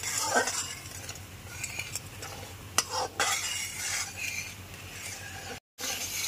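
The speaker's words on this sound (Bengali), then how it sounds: "এরপর মশলাটাকে খুব ভালো করে লো টু মিডিয়াম ফ্লেমে কষিয়ে নেব।" Masala for a Bengali doi potol (curd-cooked pointed gourd) being stir-fried in a pan over a low-medium flame, with steady scraping and stirring scrapes and a faint sizzle, alone and close.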